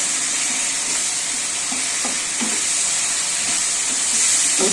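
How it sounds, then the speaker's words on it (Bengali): Spice masala sizzling and hissing steadily in a hot pan while being sautéed for Bengali aloo potol, with soft scraping stir strokes cutting through the continuous fry. "কিছুক্ষণ একটু কষাবো।"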